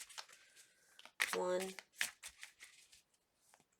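Tarot cards are riffled in a quick burst, a dense papery flutter lasting about half a second, amid someone speaking softly before and after.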